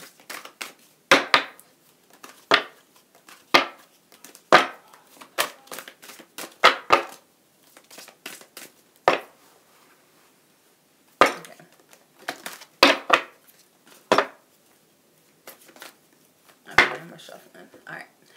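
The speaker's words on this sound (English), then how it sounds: "Shuffling." Tarot cards are shuffled in irregular bursts of crisp, close slaps and riffles, separated by short pauses across about eighteen seconds, with a voice speaking at moments.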